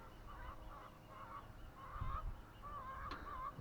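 Fowl in a farmyard beside a pond, a steady series of nasal honking calls, fairly quiet and somewhat distant, over low background rumble with no talk.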